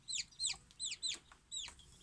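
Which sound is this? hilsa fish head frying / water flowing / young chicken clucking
young chicken clucking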